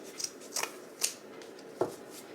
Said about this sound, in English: I am going to cut my edges off here so they look a little bit cleaner.